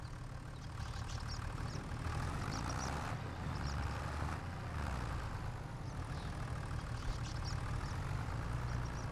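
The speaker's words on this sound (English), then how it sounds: "this little tractor pulled the manure spreader okay" A small tractor engine in Farming Simulator 25 runs at a steady low rumble, idling and working continuously with a faint whine over it and no talk.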